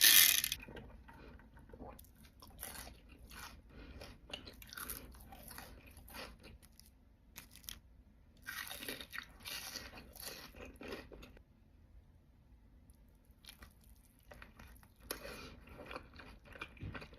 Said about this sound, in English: I've literally never seen a bigger onion ring.